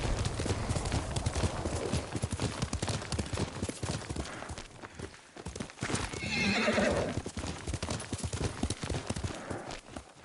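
Hooves clop steadily on the ground in a PS4 video game, and partway through a horse lets out a loud whinny before the clopping carries on.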